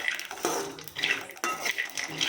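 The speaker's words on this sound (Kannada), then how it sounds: "ಹಸಿಮೆಣಸಿನ್ಕಾಯಿ ಮತ್ತು ಜೀರಿಗೆ ಹಾಕ್ಕೊಂಡ್ಬಿಟ್ಟು ಚೆನ್ನಾಗಿ ಹುರ್ಕೊತಾ ಇದ್ದೀನಿ" Green chillies and cumin seeds dry roasting without oil in a pan for a North Karnataka masala ridge gourd dish, with faint scraping and clinking of a spoon against metal in short stirring bursts, fairly quiet.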